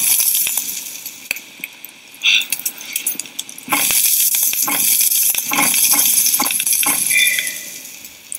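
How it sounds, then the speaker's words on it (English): Meat cooking over a fire in the game Savage Lands, a bright crackling sizzle with clinks and short metallic taps, rising into a steady loud hiss partway through. "Let's cook some meat."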